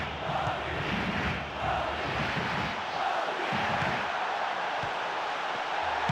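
A stadium crowd in the PES 2013 football video game keeps up a continuous moderate roar of cheering and chanting during a comeback push, steady and diffuse with no distinct breaks.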